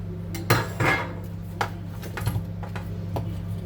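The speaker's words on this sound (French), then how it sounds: "Moi, je vais mettre 2 poêles" Two frying pans being set out on the stove to make cheese toasties, with clanks and metallic knocks of pans and utensils over a steady low hum.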